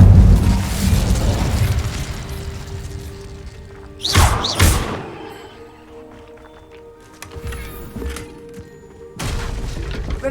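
Incendio fire spell explosions in Hogwarts Legacy burst out in several sharp booming flares, the loudest midway, over a rumbling game background with quieter thumps between.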